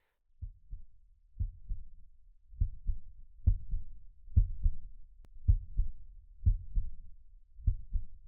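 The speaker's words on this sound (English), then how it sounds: "So quiet I could hear my heartbeat." A slow heartbeat thuds in near silence, a quiet desert setting from a film, with paired low beats repeating about once a second, soft and close and entirely alone.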